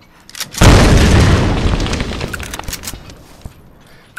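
Napalm explosion in the video game Tomb Raider: a sudden heavy boom that bursts loudly, then rumbles and crackles as it slowly fades over several seconds.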